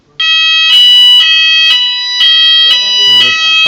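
A fire alarm sounds during smoke detector testing at an office with a Cooper addressable panel, a loud shrill electronic tone pulsing on and off in a repeating rhythm, close and dominant.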